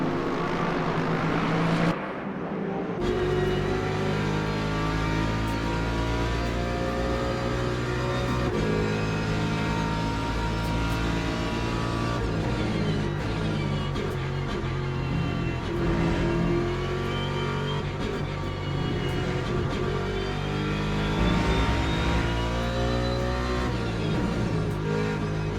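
Mustang GT3 race car in the game Le Mans Ultimate at Spa, its engine roaring loud and close throughout, rising and falling in pitch through gear changes and revs.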